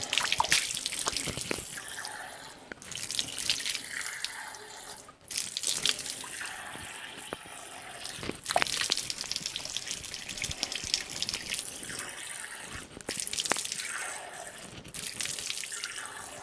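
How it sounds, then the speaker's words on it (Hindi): Water pouring and splashing over hands during wudu ablution, running continuously in several bursts with brief pauses, close and fairly loud, with dripping and sink-like washing sounds and no talking. "हाथ को धो लेते हैं पहले।"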